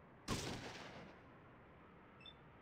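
A single booming shotgun blast from the video game Fallout 2, sharp and loud at onset, then a rough rumbling decay that fades over about a second, followed by a faint electronic chirp.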